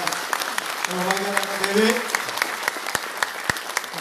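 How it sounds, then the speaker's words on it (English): Audience applause at a public forum on MA63 and related laws, a steady wash of clapping from a seated crowd with a few sharp individual claps standing out, while someone speaks briefly over it. "Another round of applause, please"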